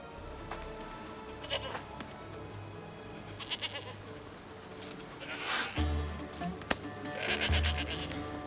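Goats bleat repeatedly in the game Assassin's Creed Odyssey, several wavering calls over a steady ambient game background, with no talk over them.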